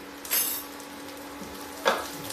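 Onions frying in a pan, a soft steady sizzle with two short bursts of stirring or spatula scrapes, fairly quiet and close.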